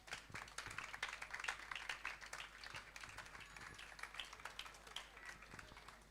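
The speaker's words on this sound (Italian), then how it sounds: "Fatevi un applauso, siete tantissimi oggi." Audience applause from a large crowd at an informal science talk, a dense steady patter of many hands clapping for several seconds, fairly loud and close, with a few voices mixed in.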